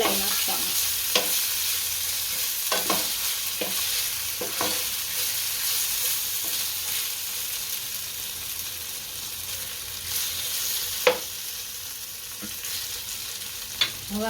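Grated raw potatoes are stirred in a pan after hot oil is poured over them, giving a steady low sizzle with scattered scraping clicks and a few sharper knocks from the spoon, close by and without speech.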